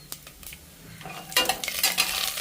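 Shahjeera and about ten cashews frying on a low flame in a pressure cooker, a faint sizzle with light stirring and utensil scrapes that grows louder and busier in the second half.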